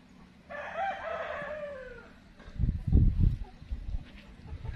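A rooster on a rural rice-field plot in Cần Giuộc crows once, a long, loud, drawn-out call at mid distance, followed by a cluster of lower, rougher clucks and fowl noises from nearby chickens.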